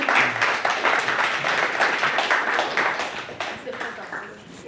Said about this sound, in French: On peut applaudir à Michael.